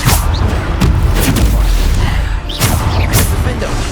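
Bombarda spell blasts in Hogwarts Legacy combat, booming explosions bursting repeatedly amid a steady rumble of magical fighting, loud and close, with whooshing spell casts between hits.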